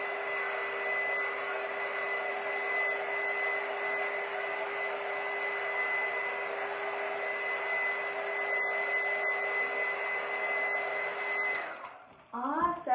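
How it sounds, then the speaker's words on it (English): A heat gun runs steadily with a close, continuous whirring hiss and a high whine while drying a craft project, then cuts off near the end, with people talking underneath. "We might have to heat gun it one more time"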